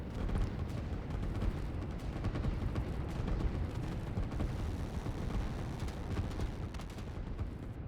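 Dense, continuous rumble of rocket explosions and artillery-like fire in the Line War RTS game, a steady loud barrage of overlapping blasts with no clear gaps.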